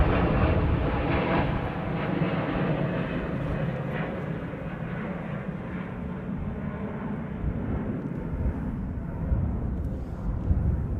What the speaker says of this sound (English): So a KLM 737 to Rovaniemi in Finland right now, taking off flight 1257